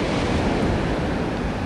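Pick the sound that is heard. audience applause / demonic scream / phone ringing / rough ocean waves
rough ocean waves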